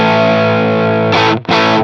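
An electric guitar through a Boss SD-1 overdrive pedal with the drive set low at about 9 o'clock, a sustained gritty chord ringing then restruck twice near the end, loud and close with no talking.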